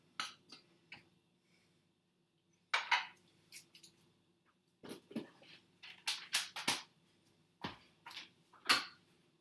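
A spoon clinks and scrapes against a bowl while melting Rice Krispie cake mixture is stirred, scattered irregular taps, close but fairly quiet, with gaps of near silence.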